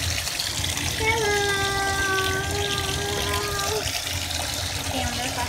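Water runs steadily into a bathtub filled with Orbeez, with a continuous rushing flow and a sustained voice tone rising over it partway through.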